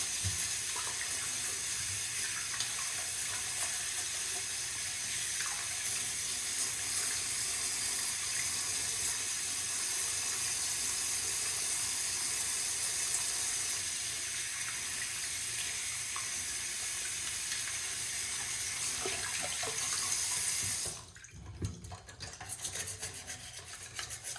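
Tap water runs steadily into a sink stopped with a plug, a continuous broadband rush that holds for about twenty seconds before cutting off abruptly near the end, with no talking.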